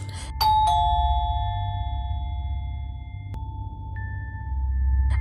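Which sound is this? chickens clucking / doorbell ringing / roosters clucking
doorbell ringing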